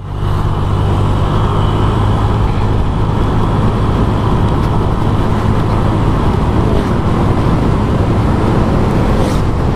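A Honda Click 125i motor scooter rides along a road near Taal Volcano, with a steady, loud engine drone and rushing wind noise throughout and no talking.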